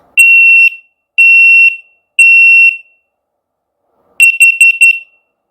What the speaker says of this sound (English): I will press the test button, so be warned of loud beeping.